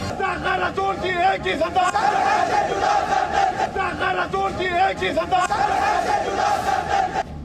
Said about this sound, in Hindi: इस दौरान भीड़ ने सिर तन से जुदा के नारे लगाते हुए राजा सिंह की गिरफ्तारी की मांग की